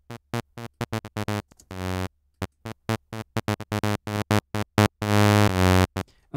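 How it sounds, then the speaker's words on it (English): Analog-style saw wave synth patch from Serum's first oscillator, heard alone as a series of short, bright, buzzy staccato notes in a rhythmic pattern with a few longer sustained notes, fairly loud and dry. "I loaded up a analog sounding saw wave"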